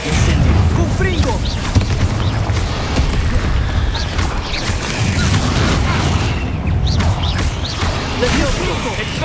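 Spell blasts from the Hogwarts Legacy video game: loud, continuous crashing explosions and rumbling impacts, one after another, with a voice shouting spell names over the din.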